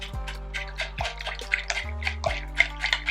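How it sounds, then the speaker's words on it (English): Water splashes and drips into a bowl in quick, irregular bursts, close and fairly loud, with several sharp plops along the way. "it's splashing everywhere."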